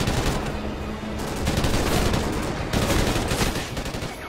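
Sustained automatic gunfire in a Call of Duty: Ghosts campaign firefight, rapid overlapping bursts from several weapons, loud and continuous throughout with brief dips between volleys.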